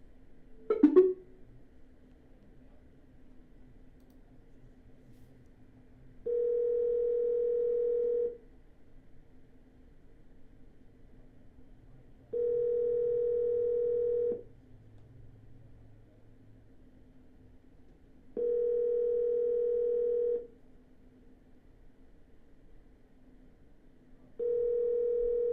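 Telephone call to a seller's line, with a sharp click at the start, then a steady low tone and a loud, regular beep repeating about every six seconds, each beep lasting roughly two seconds.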